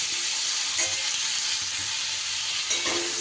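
Kakrol gourd, pumpkin and potato frying in fish oil hiss with a strong, continuous sizzle, broken by a few soft scrapes of a spoon stirring the pan, close and without talk.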